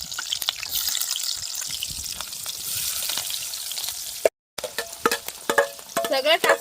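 Garlic sizzling and frying in a hot pan while being stirred, a steady crackle with scraping stir strokes, briefly interrupted by a gap, with clinks near the end.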